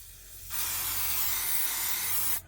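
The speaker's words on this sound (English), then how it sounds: "if you spray the 505 a bit too close to either your fabric or your stabiliser" 505 temporary spray adhesive sprayed onto embroidery stabiliser, a single continuous close hiss from the aerosol can lasting about two seconds and cutting off abruptly.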